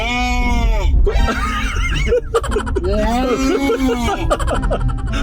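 A person imitates a goat's bleat with wavering, quavering calls, broken up by snickering laughter, loud and close.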